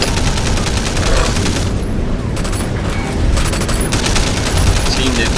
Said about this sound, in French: Ça explose, ça tire dans les bras, les jambes, les têtes.